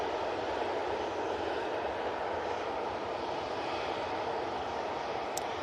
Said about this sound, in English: I've got a plane finally coming through the bushes. Aer Lingus, A330.